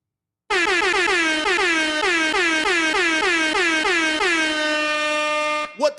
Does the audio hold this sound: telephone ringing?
no